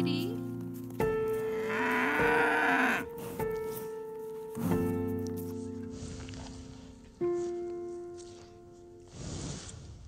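Cows on a farm in winter give a few drawn-out moos and bleat-like calls, close and fairly loud, spaced across the stretch with some low background noise.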